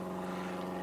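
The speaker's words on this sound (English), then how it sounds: "There goes an airplane." An airplane passes right overhead outdoors, a steady loud propeller drone with a low buzzing hum that fills the whole moment, no voices.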